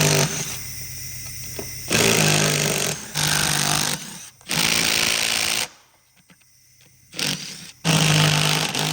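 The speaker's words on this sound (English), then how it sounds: "Get them with your little impact drill here." Loud bursts of an impact drill rattling as it loosens wheel studs on beadlock wheels, each lasting about a second, separated by short quiet gaps; no talking.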